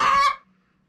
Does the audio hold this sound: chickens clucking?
yes